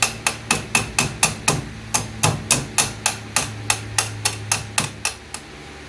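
Repeated tapping on the carburetor of a 1985 Chevrolet C-10 to free a stuck float: about twenty sharp, close metallic knocks in a steady rhythm, each ringing briefly, fading slightly toward the end.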